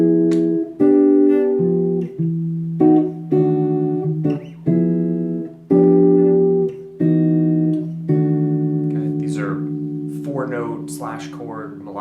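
Jazz guitar comping on a traditional straight-ahead 2-5-1-6 progression, played with chord-melodic triad voicings: a steady run of sustained chords struck one after another in an even rhythm, up close and clear, with no talking over it.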